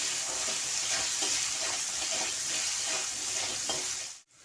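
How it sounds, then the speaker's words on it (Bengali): Potatoes with turmeric and salt fry loudly in a pan, a dense continuous sizzle with stirring scrapes, ending with a sudden drop near the close. "দিয়ে আলুটা আমি ভেজে নেব।"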